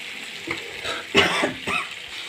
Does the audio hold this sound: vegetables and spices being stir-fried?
yes